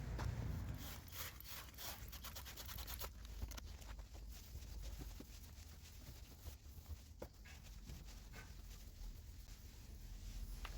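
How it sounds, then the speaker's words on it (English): A cloth wipes and rubs across a car headlight after a baking soda and vinegar cleaning, giving a steady, close rubbing and scraping texture with scattered sharper strokes, no talk over it. "just cleaning off the headlight and wrapping things up"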